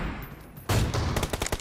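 Gunfire in PUBG Mobile team deathmatch: a sudden loud burst of rapid shots after a quieter lead-in, several sharp reports in quick succession.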